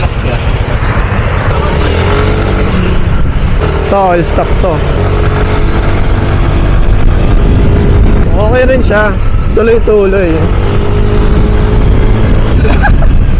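A Yamaha Aerox 232 scooter fitted with a Speedtuner dry clutch runs loud and close on a dyno, with a continuous engine drone and repeated rising revs. Someone talks over the engine noise.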